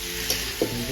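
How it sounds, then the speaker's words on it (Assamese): Chopped bhut jolokia chillies fry in a pan for an Assamese chicken curry, a steady close sizzle with two brief louder spatters or stirring touches, no voices. "জলকীয়াখিনি ভজা হৈ গৈছে।"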